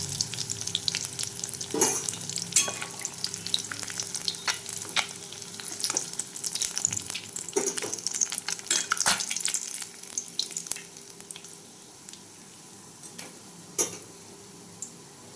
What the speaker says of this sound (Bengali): দেখুন আমার মাছগুলো ভাজা হয়ে গেছে। এরপর মাছগুলো এক এক করে আমি তুলে নেব তেলের থেকে।